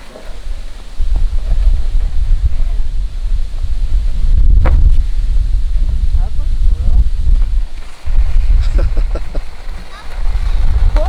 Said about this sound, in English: The wind's picking up though.